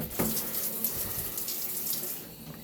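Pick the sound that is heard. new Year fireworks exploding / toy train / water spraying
water spraying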